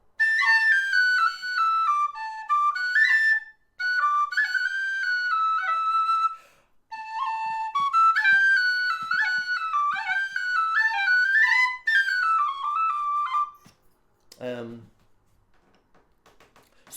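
Low and high D tin whistles play an ornamented folk tune in bright, breathy phrases with short pauses between runs, played alone and close, ending in a single quick downward slide.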